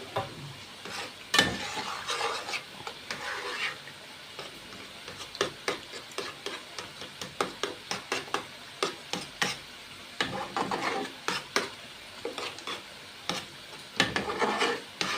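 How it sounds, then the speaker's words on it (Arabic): Two eggs stirred into frying shakshuka made with garlic, a steady run of quick scraping taps of a utensil against the pan over a faint sizzle, with no talk. "هبدا بقى اقلب في بيضتين متجمدين."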